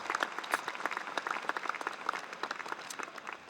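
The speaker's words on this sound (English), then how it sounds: "give them a round of applause to the families" Graduation audience at a university ceremony in Melbourne applauding families, a moderate, fairly distant patter of many hands clapping steadily throughout.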